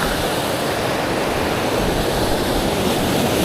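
A river near Puerto Princesa rushes strongly where it splits into channels, making a loud, steady roar of churning water with no pauses.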